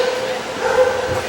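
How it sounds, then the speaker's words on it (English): Dogs at a gay rodeo in the Great Plains, giving short excited yips and whimpering barks amid crowd noise and talk in a lively arena. "And you can hear the dogs barking."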